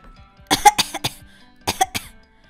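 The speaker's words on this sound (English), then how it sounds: "could you please stop coughing on my computer?" Harsh coughing in a computer lab, two close bursts of three or four hacking coughs each separated by a short pause, loud and alone.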